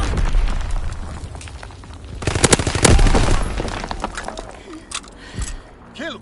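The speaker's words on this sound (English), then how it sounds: "Enemy mortar fire incoming." In a combat video game, mortar rounds and gunfire crack and boom in bursts, with a loud cluster of blasts midway, while a voice speaks over the battle.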